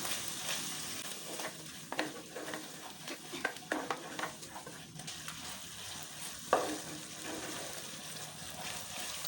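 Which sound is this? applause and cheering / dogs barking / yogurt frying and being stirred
yogurt frying and being stirred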